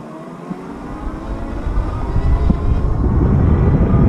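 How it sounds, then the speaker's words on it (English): A VTUVIA Antelope electric vehicle accelerating at full throttle, a steady low rumble and whir that builds gradually in loudness over a few seconds, heard up close with wind noise. "I'm going to use just the throttle, see how it does. Full throttle, there we go."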